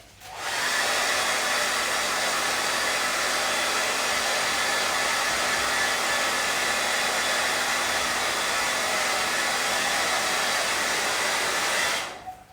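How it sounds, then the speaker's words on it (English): A hair dryer blowing on embroidery fabric to erase marker lines, a steady loud broadband whoosh with a faint hum, switched on near the start and running alone without pause until cut off at the end. "So all you need to do is blow dry it."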